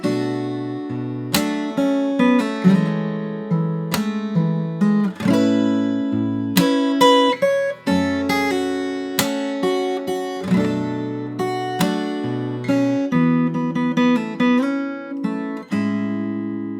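Fingerstyle acoustic guitar plays the chorus of a song, plucked bass notes and chords ringing out in a clear, steady rhythm, close and alone, with no voices.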